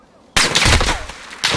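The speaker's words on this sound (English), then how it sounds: "He's shooting you through the upper window." Gunfire in Call of Duty Warzone erupts suddenly as a loud, rough burst of rapid shots lasting about a second, followed by another sharp burst at the end.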